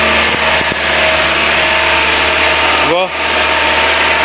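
1982 Renault Trafic van engine idling steadily and loudly up close, with a brief dip and a sweeping whine near the end, while someone speaks briefly at the start.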